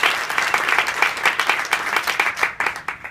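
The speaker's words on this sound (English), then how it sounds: "Round of applause for the volunteers." An audience at a typography meetup in New York claps for volunteers, lively and fairly close, with individual claps rippling through the steady applause.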